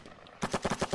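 Gunfire in the Lock 'n Load Tactical video game: a rapid burst of about five evenly spaced shots after a quiet start, close and fairly loud.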